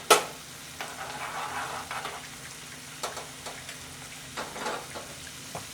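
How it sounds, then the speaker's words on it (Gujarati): Cashew and almond pieces frying in hot ghee: a steady soft sizzle broken by occasional stirring clicks and scrapes, close and without talk. "આ બદામના જે ટુકડા કરીને રાખેલા છે તે અને કાજુના ટુકડાને નાખી અને તળી લઈશું."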